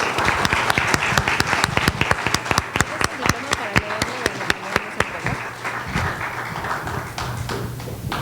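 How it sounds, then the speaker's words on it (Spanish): An audience applauds a speaker receiving recognition at an academic event, dense clapping of many hands at close range that thins and fades toward the end, with faint voices underneath. "le brindamos un fuerte aplauso al doctor Daniel Velázquez, por favor."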